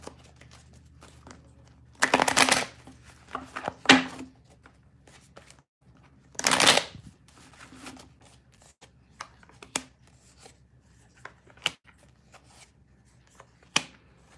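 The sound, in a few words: shuffling tarot cards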